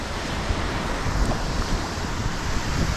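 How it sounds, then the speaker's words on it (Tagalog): Sea waves rolling in while fishing on the coast at La Union in the Philippines: a continuous broad roar of surf, mixed with heavy wind buffeting the microphone and no voices. "Bigla na lang umaalon nang umaalon."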